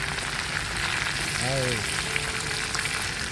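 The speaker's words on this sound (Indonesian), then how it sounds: "Masak ayam ya" Chicken pieces of free-range village chicken frying in oil in a pan at a rainy camping and fishing site, a steady loud sizzle throughout with a brief voice rising over it midway.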